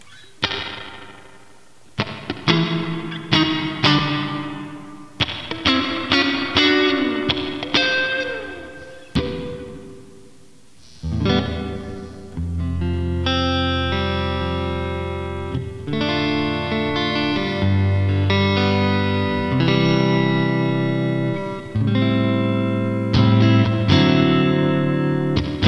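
Electric guitar played through a spring reverb effect on Zoom G2Four and NUX MG-300 multi-effects units: struck chords and single notes ring out with a splashy, wet tail, first in choppy strums, then sustained tones.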